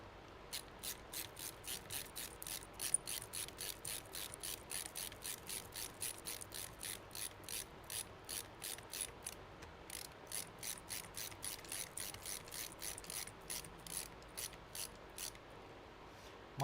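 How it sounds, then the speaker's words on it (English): A screwdriver driving Dell screws into a PC case gives a steady run of sharp, evenly spaced ratcheting clicks, close and crisp, with a brief pause partway through. "I'm putting Dell screws in here"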